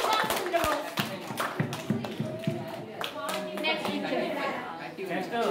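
A group of children claps for a correct answer at a students' gathering in Jagtial. Scattered, fairly close hand claps sound over lively overlapping voices and kids chattering throughout.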